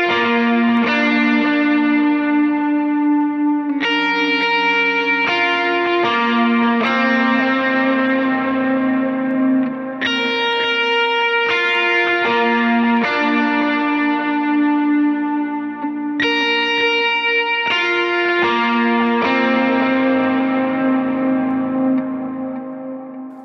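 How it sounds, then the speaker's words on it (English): Electric guitar lead with light-to-medium overdrive, a dotted-eighth delay and a big ambient delay, playing sustained ringing notes and chords that swell and trail into one another, steady and loud throughout with no talking. "to get this sound, I have sort of a light to medium type of overdrive on"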